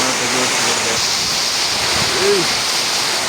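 Torrential rain and strong wind from a Kalbaishakhi storm make a loud, constant wash of noise, with a faint voice buried underneath.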